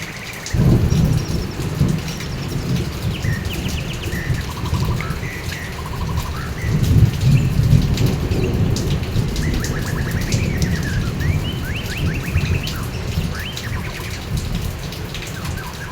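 Steady heavy rain pours over a backyard garden with rumbling thunder rolling through, loud and continuous, while faint birdsong chirps in the background.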